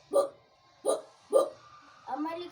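A man imitates a big dog barking with his voice, giving three deep, evenly spaced woofs followed by a fourth, slightly drawn-out bark, fairly close and alone.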